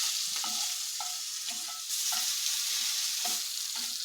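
Morel mushrooms frying in butter in a pan give a steady, close hiss of sizzling, with a few soft pops and stirring scrapes breaking through at intervals.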